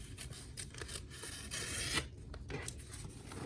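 Scissors cut through crunchy tearaway embroidery stabilizer with quiet, close crinkling snips and rustling in a fast, uneven rhythm.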